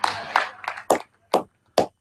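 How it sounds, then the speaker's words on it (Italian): Applause after a speech at a regional political event in Lombardy: a short, sparse patter of hand claps, ending in three separate sharp claps. "Un applauso al suo intervento"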